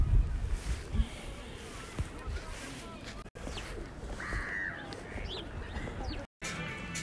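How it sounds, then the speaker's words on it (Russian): Gulls call intermittently over a busy outdoor background of water and general ambience, with brief squawks rising near the middle while people talk faintly nearby. "Это чайки белые, это оказывается, не, как мы думали, не дети уток"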